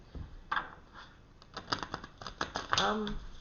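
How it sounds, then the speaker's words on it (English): Tarot cards being shuffled make a quiet burst of soft riffling clicks and flicks that quicken toward the end, with a faint voice murmuring underneath. "I was waiting for the cards to tell me they were done being shuffled"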